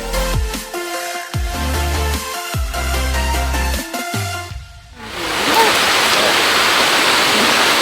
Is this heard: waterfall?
yes